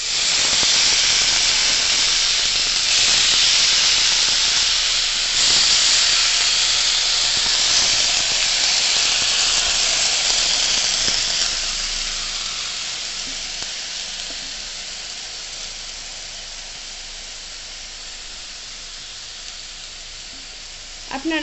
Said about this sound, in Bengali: এবার আমি কড়াইয়ে দিয়ে দিচ্ছি লাউগুলো।